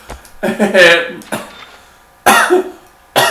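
A person coughs several times in separate harsh bursts, close and loud, with brief quiet gaps between.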